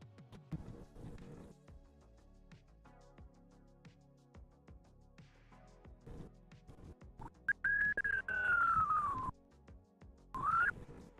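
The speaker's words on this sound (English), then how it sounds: "Me whistling." A person whistles a couple of short gliding tones near the end, after a stretch of quiet clicks and soft handling noises.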